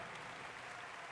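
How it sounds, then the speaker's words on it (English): Crowd applause from the athletics video game Summer Athletics at an indoor championship, a steady wash of clapping filling the short moment without pause, fairly faint and even. "I don't know who you think you're clapping."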